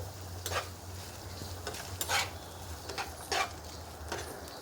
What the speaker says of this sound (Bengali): এখানে ভালো করে নেড়ে নিচ্ছি।